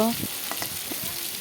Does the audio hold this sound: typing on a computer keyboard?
no